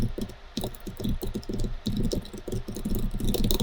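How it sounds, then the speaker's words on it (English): Rapid typing of Python code on a computer keyboard, close and crisp, with irregular bursts of clicking keystrokes and brief pauses between runs. "I can do that by typing an else if condition."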